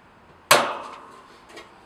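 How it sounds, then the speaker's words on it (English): A single sharp metallic clack as a clamp is snapped shut to hold a filter in a Flashvap cooling system, ringing off briefly, followed by a fainter click and a quiet background. "make sure that you clamp the other 2 clamps to hold the filter in place"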